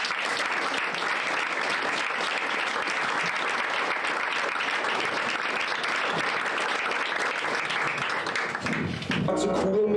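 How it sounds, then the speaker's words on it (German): A large audience applauds at a live Bavarian television comedy show, with dense, sustained clapping throughout and a brief change in sound at the very end. "bitte einen ganz großen Applaus für Robert Allen"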